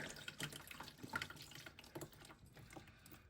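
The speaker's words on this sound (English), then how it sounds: "you see my trash can there is catching the water" Water from a toilet fill valve that has just been pulled out drains and trickles into a trash can nearby, a continuous faint splashing flow with no voices.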